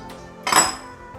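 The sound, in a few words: lid placed on pan of upma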